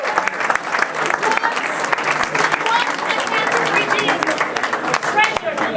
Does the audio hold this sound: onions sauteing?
no